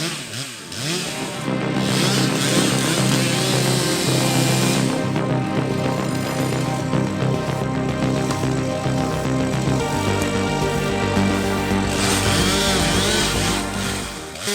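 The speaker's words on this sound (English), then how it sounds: "The steel chainsaw fires up with the growl that cuts through the silence of the forest." A chainsaw roars to life and runs continuously at high revs, loud and close, its engine note shifting slightly as the throttle changes.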